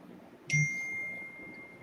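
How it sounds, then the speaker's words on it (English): One bright chat-message notification ding sounds close and clear, then rings out with a fading tone over a faint background hum. "That's the sound of Renee messaging me."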